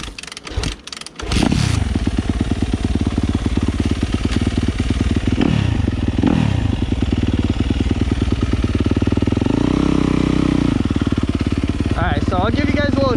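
A 2017 Yamaha YZ250F dirt bike takes a few kicks before catching, then runs with a loud, close, rapid four-stroke putter and several sharp throttle blips, briefly dipping in pitch near the end.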